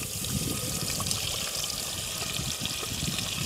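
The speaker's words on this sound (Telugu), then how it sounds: "వేడైన తర్వాత ఇగో ఇప్పుడు రుబ్బుకొచ్చుకున్న పేస్ట్ని ఇలా పోసుకోవాలి" A ground spice paste is poured into hot oil while making a boti (goat tripe) curry, giving a continuous wet trickling and sizzling hiss that stays close and steady before cutting off abruptly.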